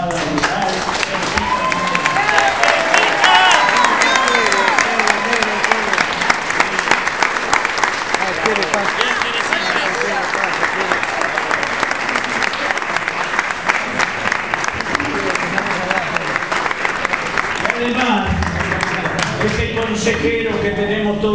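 An audience applauds a retired teacher at a year-end political gathering, loud, sustained clapping from a large crowd that runs unbroken for over twenty seconds, with faint voices mixed underneath.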